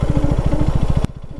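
A parked motorcycle on a hilly road runs with an odd mechanical noise: a loud, rapid, evenly spaced thumping that drops abruptly in level about a second in and continues more quietly.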